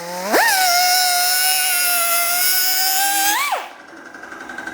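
A handheld grinder spins up, runs steadily for about three seconds while knocking the burr off a chainsaw bar edge on a firewood processor, then winds down, with no talk.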